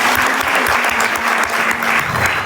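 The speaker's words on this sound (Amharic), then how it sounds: "አጨብጭቡላቸው" Sustained applause from an audience at a prize draw, greeting a winner as the name is announced; steady, dense clapping fills the whole stretch at full loudness.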